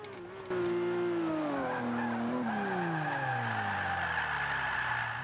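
A Lamborghini Aventador drifting in Forza 5, heard from outside the car: a loud, strained engine note slides downward in pitch while tyres skid and squeal in a continuous smear.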